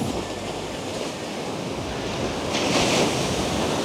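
Ocean waves washing onto a beach on a clear morning as the tide comes in, a continuous loud surf roar that swells near the end, mixed with gusty wind buffeting the microphone.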